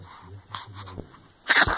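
A short, sharp sneeze bursts out at the end after a few soft breathy sounds, close and loud.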